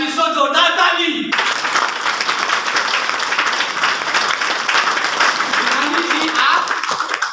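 An audience at a Safe Shop business meeting claps loudly and steadily for about six seconds after a brief spoken line, the dense applause filling the room before fading at the end.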